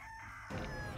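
A chicken clucks and crows in a video game, a continuous cackling call rising in intensity halfway through, loud and close over a steady game backdrop.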